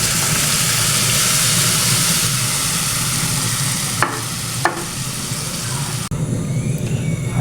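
Tomato sauce for an Egyptian moussaka pan sizzles loudly in the hot pan, a steady wash of frying hiss broken by a few clanks of the stirring spoon near the end.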